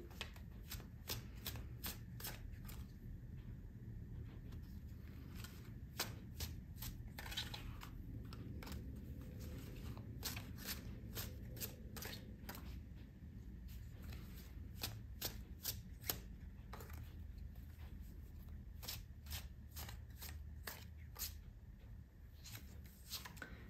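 Tarot cards are shuffled close up for a long stretch, with steady quick riffling and soft flicking taps in a continuous rhythm and almost no talk.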